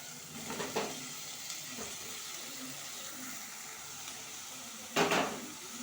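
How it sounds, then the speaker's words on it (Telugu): Oil bubbles and sizzles steadily in a pan while bottle gourd dal with tomatoes cooks, with a few louder stirring scrapes and one sharp clatter of a pot or lid near the end. "నూనెలు అయితే మంచిగా గోలుతున్నాయి"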